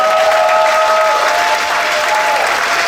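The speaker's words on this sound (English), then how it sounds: "So can we show that brother a round of applause?" An audience at the Straight Black Pride Movement Convention breaks into sustained applause, a steady loud wash of many hands clapping at once that holds for about three seconds, with a faint tonal hum running beneath it.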